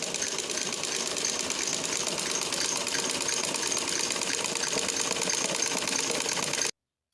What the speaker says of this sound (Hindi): अब हम दोनों कपड़ों को आपस में मिला के 6 इंच के इंच पर टांका लगा देंगे, सिलाई कर देंगे।